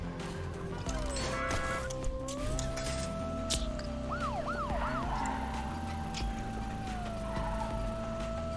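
Police sirens wailing in You Suck at Parking, gliding tones that sweep up and down with a few rapid yelps midway, over a busy backdrop of engine hum and scattered crashes.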